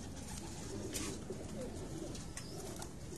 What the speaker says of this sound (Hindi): ये सारे कबूतर इस टाइम मेरी छत से आए हुए